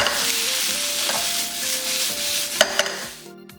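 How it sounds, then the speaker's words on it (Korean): Loud, steady sizzling of Spam, onions and chili peppers stir-frying in a hot pan, with scraping and clinks of a utensil, ending abruptly. "스팸 넣고 청양고추, 후추 약간 30초 정도 볶아서 양파가 살아있게 볶아줬다"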